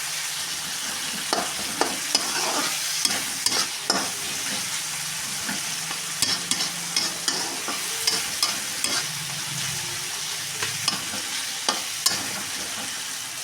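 Tomatoes and onions fry in a pan for a potato and cauliflower curry, giving a continuous sizzling hiss punctuated by regular, evenly spaced stirring knocks throughout.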